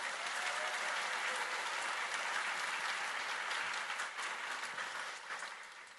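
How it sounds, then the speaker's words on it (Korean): Sustained applause from a large congregation at a religious gathering in Suwon, a dense even wash of clapping that holds steady and then tapers slightly toward the end. "박수 부탁드립니다"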